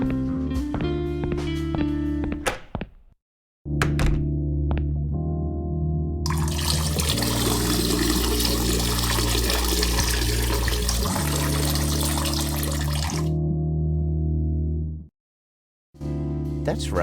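Toilet flush and running water in the Randal's Monday video game, a broad rushing swell lasting several seconds over a steady tonal background, with brief silences before and after.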